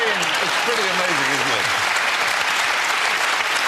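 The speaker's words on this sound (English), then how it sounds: "Good Lord, round of applause." A studio audience applauds on a television panel game show, a dense, loud, continuous clapping that swells and holds, with a voice speaking briefly at the start.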